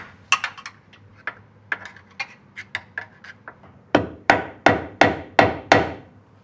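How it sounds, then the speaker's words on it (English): Metal tool tapping and scraping against a suspension bushing as a flathead screwdriver pries at it on a Civic, light scattered clicks giving way to a run of six or seven sharp, loud, evenly spaced knocks up close. "I've got a flathead screwdriver here with hopes of prying this out"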